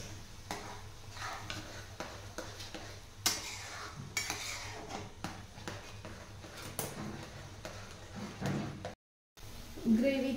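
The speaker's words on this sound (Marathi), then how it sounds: "ती ग्रेव्ही तळायची तुपामध्ये" Gravy frying in ghee in a home kitchen pan, with soft sizzling under scraping and clinking of a spoon stirring against the vessel, a few sharper knocks, and a brief pause near the end.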